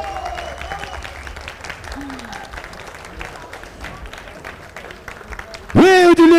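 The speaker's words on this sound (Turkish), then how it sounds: "Çok büyük alkışlarla Vengeance" A crowd at a Rise Online 8v8 gaming tournament applauds the winning team, dense clapping running under an announcer's voice, then a sudden loud tonal swell near the end.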